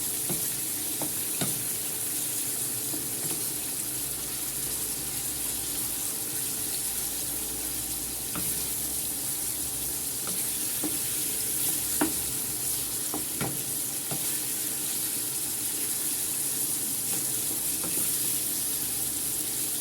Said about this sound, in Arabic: نقلب فيها بقى